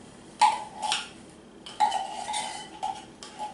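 Spoon or whisk clinking against a bowl while condensed milk is mixed for leche flan, a few separate ringing taps spaced across the moment, close and fairly clear with no talking.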